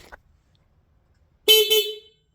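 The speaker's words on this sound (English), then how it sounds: "Loud horn." A 2023 Honda CRF 450RL dual-sport motorcycle gives one short, loud, blaring horn blast lasting about half a second after near silence, with a faint click just before it.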